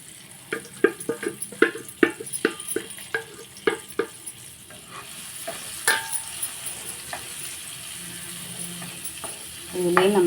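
Masala-stuffed bitter gourd pieces hit hot oil in a pan with a string of sharp clatters and stirring knocks, then settle into a soft, continuous sizzle, close and fairly loud.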